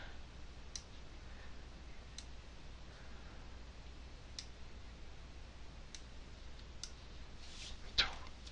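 Computer mouse clicks while the lasso selection tool is used: a few sharp, quiet clicks spaced a second or two apart, with a slightly louder click near the end over a faint steady hiss.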